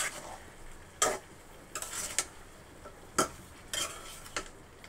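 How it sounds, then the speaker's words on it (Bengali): A spoon stirs a sweet pumpkin and Malabar spinach curry in a pan, giving several sharp scraping clacks at irregular intervals over a faint sizzle, with no talking. "দেখেন মাঝে মাঝে আমি তরকারিটা নেড়ে চেড়ে দিচ্ছি।"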